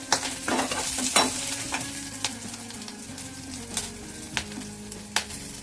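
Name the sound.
green chili and garlic frying in oil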